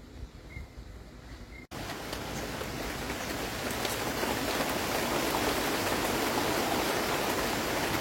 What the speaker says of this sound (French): Là, on reçoit une bonne averse.